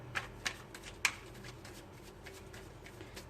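Tarot cards being shuffled by hand: soft, quiet riffling with a few sharp snapping slaps near the start, then a low continuous rustle, with no voices.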